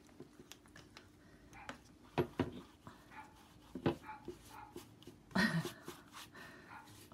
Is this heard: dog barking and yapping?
yes